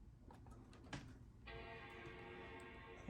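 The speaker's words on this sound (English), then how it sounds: "Okay, there's the chime." The startup chime of a 2010 Mac Pro sounds as one sustained tone that begins partway through and holds to the end. It is faint under room hum, after a few light clicks.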